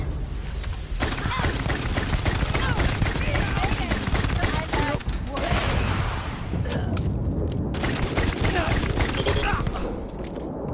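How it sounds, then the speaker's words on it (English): Weapon fire in the video game Starfield with a rocket-launcher-like character, dense loud blasts and crackling bursts running almost continuously, with a few short gaps between volleys. "It's kind of like a rocket launcher sound."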